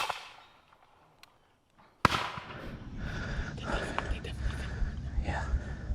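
A sudden loud musket volley from Revolutionary War reenactors at Old Bethpage Village Restoration cracks out after a quiet pause, followed by a long rumbling, echoing decay with faint voices.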